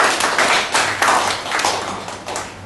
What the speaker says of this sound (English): Let's give a round of applause to wake up everybody